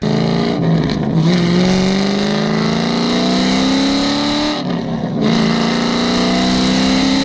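A cammed Corvette with nearly straight-piped exhaust revs loud and close, two long pulls with rising pitch, each followed by a brief drop in engine note.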